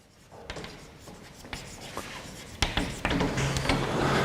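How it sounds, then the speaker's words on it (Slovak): Chalk or marker strokes on a board during a university mathematics lecture, a string of short scratchy taps and rubs, some louder and closer, in a quiet room with no talking. "Ja si tu niečo napíšem"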